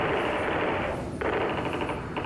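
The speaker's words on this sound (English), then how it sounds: "That does not sound like a silenced weapon." Unsilenced weapon gunfire in Call of Duty: Black Ops, a loud continuous burst of rapid automatic shots with a brief gap before firing resumes, close and dense.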